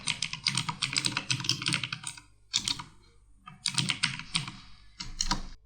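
Someone types on a computer keyboard in close, quick bursts of keystrokes, broken by short pauses.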